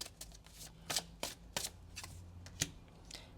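Chunky tarot cards being shuffled close up, a quiet run of crisp riffling bursts and soft slaps at an uneven rhythm, with no talk.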